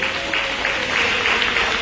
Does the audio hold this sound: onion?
no